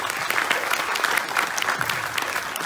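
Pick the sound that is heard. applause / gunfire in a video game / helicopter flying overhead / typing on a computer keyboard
applause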